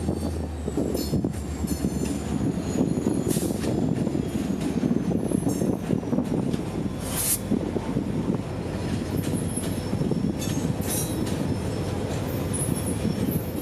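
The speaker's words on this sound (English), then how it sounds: "Y191 would depart for Rockport Yard" CSX switching train Y191 leaving for Rockport Yard, a steady rumble of railcars rolling past with clicking wheels and intermittent high squeals, continuous and fairly close.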